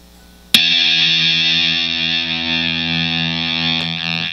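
Electric guitar through a Basic Audio Scarab Deluxe fuzz pedal: one sharply struck chord bursts into thick, buzzy fuzz and sustains loud and steady, with a faint pick scrape near the end.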